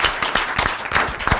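An audience claps in a studio, a short burst of loose, uneven handclaps, close and fairly loud.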